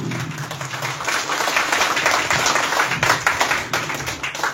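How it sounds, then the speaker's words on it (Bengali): A seminar audience applauds loudly for the company CMD at a business event in Digha, steady dense clapping filling the room for several seconds with no speech over it. "ওনার জন্য একটা জোরে হাততালি"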